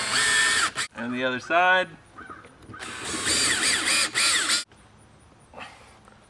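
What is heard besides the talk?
driving exterior screws to fix a spigot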